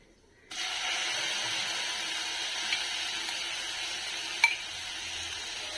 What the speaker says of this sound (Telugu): ఇప్పుడు మిక్సీ పట్టుకున్న ఈ మిశ్రమాన్నంతా తాలింపులో వేసుకుంటున్నాను.